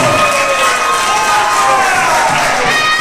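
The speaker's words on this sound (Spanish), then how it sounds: "¡Fuerte el aplauso!" A crowd cheering and shouting loudly, a dense, sustained roar of voices with whoops and some applause mixed in, close and continuous throughout.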